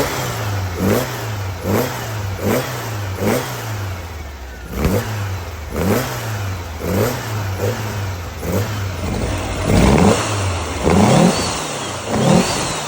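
A 1914cc Volkswagen engine on dual 48 carburetors revs repeatedly in short, rhythmic bursts, each throttle blip rising and falling, growing louder and rougher near the end.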